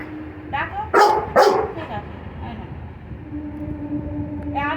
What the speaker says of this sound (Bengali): আবার দেখো ঘেউ ঘেউ ডাকো ডাকো বুড়ো ডাক